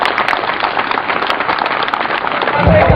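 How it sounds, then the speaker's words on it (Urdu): Crowd at an election corner meeting in Islamabad bursting into applause, a loud, dense patter of clapping filling the whole moment, with a low thump near the end. "ان کے لیے بھرپور تالیاں ہو جائیں"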